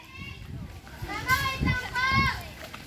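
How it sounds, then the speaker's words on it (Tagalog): Children playing outside a church, their high excited voices and shouts overlapping close by while an adult speaks. "Ayan, mga bata naglalaro."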